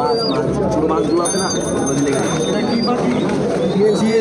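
Pigeons cooing in a crowded pigeon market in Mirpur, Dhaka, with many soft overlapping coos and chirps close by, and someone talking over the birds throughout.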